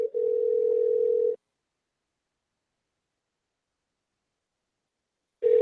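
Ringback tone of an outgoing phone call on a radio morning show: one steady electronic ring of about a second, a long silence, then the next ring starting, clear and alone.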